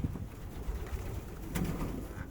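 A flock of pigeons at morning feeding keeps up a continuous rolling coo close at hand, joined by a brief rustle or flutter partway through.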